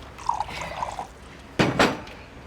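Water pours into a glass in two short, splashy bursts after a few faint clinks and trickles, close and fairly loud, with no talking over it.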